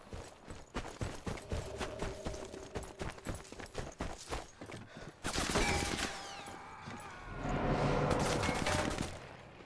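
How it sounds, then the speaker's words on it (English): Gunfire in the video game Sniper Elite 4: a rapid run of sharp, repeated shots for several seconds, followed by louder, denser bursts and echoing reports close by, with no talking. "He's shooting me through the tent."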